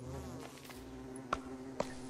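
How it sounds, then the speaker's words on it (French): Bees buzzing in the game Don't Starve, a droning hum with layered tones that waver as they move, broken by two sharp clicks near the end. "Ça me stresse, ces bruits d'abeilles."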